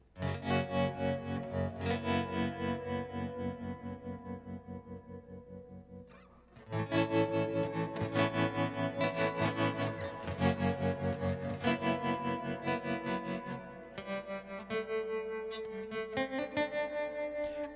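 A Yamaha SLG200S silent guitar strung with nickel strings rings out through tremolo and reverb pedals, with chords strummed in a steady pulsing rhythm, a brief pause near the middle, and a loud, sustained ambient wash, heard alone.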